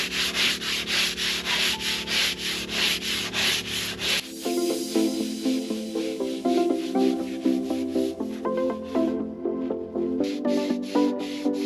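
Coarse 16-grit paper roughens fiberglass on a hurricane-damaged catamaran repair with rhythmic back-and-forth scraping strokes, close and steady throughout.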